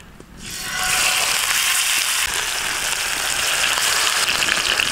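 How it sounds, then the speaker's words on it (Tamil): A whole fish of about 5 kg drops into hot mangrove oil for a lemon pepper fish fry. After a brief quiet start, a loud, dense sizzle bursts up and holds steady, crackling like heavy rain. "இப்போ ஒவ்வொரு மீனா போட்டு பொரிச்சு எடுத்துக்கலாம்"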